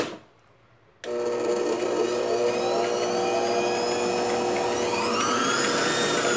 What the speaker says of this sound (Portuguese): E vou levar na batedeira.